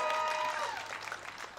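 Crowd at the March for Science in London cheering and clapping outdoors, a brief burst of dense applause with cheers that stays loud for about a second and a half.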